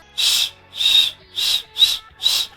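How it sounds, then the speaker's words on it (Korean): Five breathy, airy whistles blown through the lips, each a soft hiss with a thin tone, spaced evenly with short pauses between. "바람 새는 휘파람 소리"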